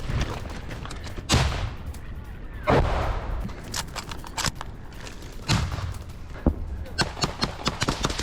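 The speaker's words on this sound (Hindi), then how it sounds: "ये देखिए ग्रेनेड अटैक हुआ है" Gunfire and grenade blasts crack out in irregular bursts during a night assault in Bakhmut, sharp reports and heavier thumps over a rough background, with voices heard in between.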